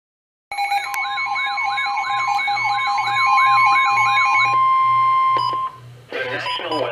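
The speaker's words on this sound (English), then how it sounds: "Go ahead and do the siren test on it," A weather alert radio runs its EAS siren test: a loud, rising-and-falling electronic wail over a pulsing low beep for several seconds, then a steady tone and a burst of garbled noise.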